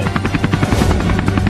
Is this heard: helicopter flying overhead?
yes